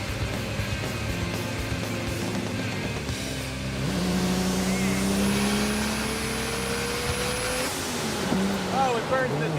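A 1968 Dodge Charger with a 440ci V-8 revs hard into a burnout, its engine roaring loud and close as the pitch climbs steadily with a high whine over it, and voices are heard briefly.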